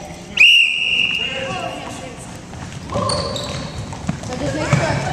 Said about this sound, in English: When I blow my whistle, y'all can go.